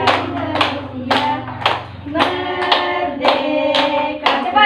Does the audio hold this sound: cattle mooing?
no